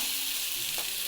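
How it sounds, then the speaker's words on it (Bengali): Fish fry in a pan while being stirred, giving a brief, steady, close sizzling hiss with no voices. "ভালো করে নাড়িয়ে নেবো মাছগুলোকে।"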